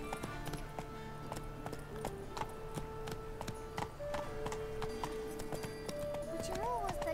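Galloping horse hooves in The Witcher 3 patter steadily under game music while someone speaks over the ride.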